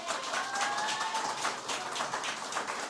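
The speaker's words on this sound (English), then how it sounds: "I'm glad to hear lots of cheering" Cheering and applause from an audience at a graduation ceremony, a dense, steady wash of clapping and crowd noise at moderate distance.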